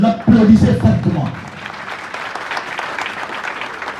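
Applause breaks out at an outdoor tree-planting ceremony in a neighborhood, with a voice heard at the start, a loud burst of clapping that then settles into steady, moderate applause.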